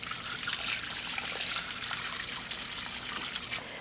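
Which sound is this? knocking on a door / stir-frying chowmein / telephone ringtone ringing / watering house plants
watering house plants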